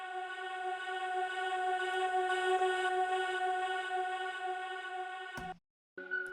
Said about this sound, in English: I have this like reverse vocal effect going into or leading up to my vocal